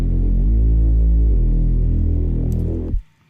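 A deep, sustained electronic bass synth drones with shifting tones, then cuts off abruptly near the end, leaving near silence.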